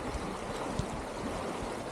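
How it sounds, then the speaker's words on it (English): Stream water flows at a knee-to-thigh-deep trail crossing, a soft, continuous rushing and gurgling that is faint but steady throughout, with no voices. "Water is flowing this way, so I have to face into the flow."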